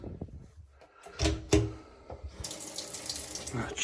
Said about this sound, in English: Let's run some water. We have a nearby sink.